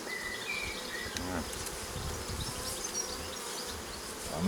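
Honey bees hum around an open hive box during a hive inspection, a dense, steady swarm drone close by with individual insects whining past now and then and no talk.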